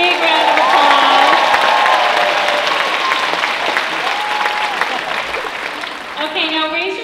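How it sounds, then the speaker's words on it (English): An audience at a parent education evening applauds loudly and steadily, with cheers and a few voices mixed into the clapping, which fades slightly toward the end. "Big round of applause."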